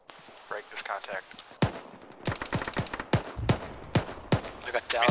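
Gunshots in the tactical shooter ShackTac ring out as sharp bursts and single cracks, several close and loud, mixed with fainter distant shots, while players talk over the firefight.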